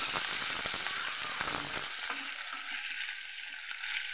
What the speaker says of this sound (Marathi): चांगली तडतड फोडणी आपण मस्त होऊन द्यायची